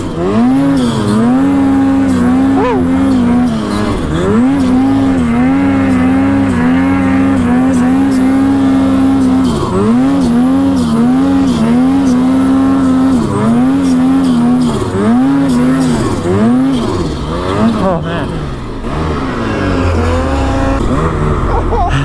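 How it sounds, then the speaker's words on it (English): A race car on a hot lap, its engine loud and close as it revs up and down through gear changes and throttle lifts across a steady run, with occasional tire noise and no clear talking. "We're just doing a little hot lap."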